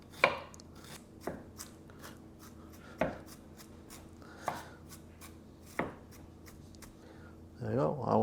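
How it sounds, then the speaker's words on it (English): Sharp pounding of roughly chopped mango chutney ingredients in a pestle and mortar, five or six distinct thuds spaced about a second or more apart. A short burst of scraping follows at the end. "So we are going to bash it up in the pestle and mortar"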